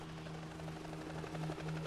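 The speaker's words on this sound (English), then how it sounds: "She could hear a helicopter. It was close." A helicopter drones steadily overhead with a low rotor hum and faint rhythmic chopping, fairly quiet and continuous throughout.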